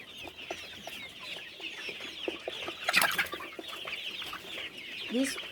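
Chickens clucking close by, with a steady chorus of short murmuring calls, one louder burst of squawking midway and a brief higher cry near the end.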